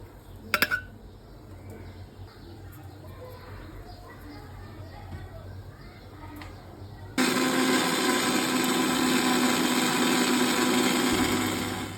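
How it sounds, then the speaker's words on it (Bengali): A quiet kitchen with faint bird coos and a few knocks gives way to an electric blender switching on abruptly, whirring loud and steady as it purees coriander leaves into a mash. "তো এখন আমি ব্লেন্ডটা করে নিচ্ছি।"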